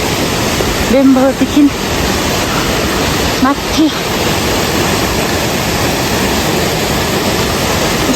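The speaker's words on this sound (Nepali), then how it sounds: "खोलामा आइपुग्यो साथीहरू हामी" A mountain river on the Annapurna trek rushes in a loud, constant roar close by, with someone speaking briefly over it near the start.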